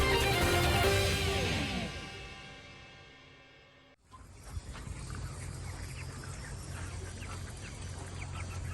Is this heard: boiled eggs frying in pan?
no